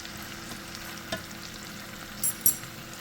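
Sliced onions sautéing in a pan for homemade gravy, a steady soft sizzle and crackle with a few sharper pops near the end, with no talking.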